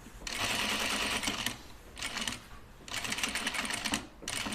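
A sewing machine runs in three steady bursts, back stitching down a vent on a reworked ready-to-wear garment, whirring up close with brief pauses between the stitching runs.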